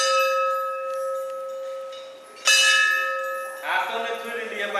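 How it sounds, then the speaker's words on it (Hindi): Hand bell rung during a Hindu puja, a ringing metallic tone with sustained overtones that fades, then is struck again, followed by brighter clangs near the end, fairly close with no talk over it. "ले घंटी बजा।"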